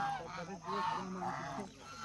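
Waterfowl by a lake near a campsite give a run of loud, nasal honking calls up close, a few overlapping cries in quick succession.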